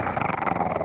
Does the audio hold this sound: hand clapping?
no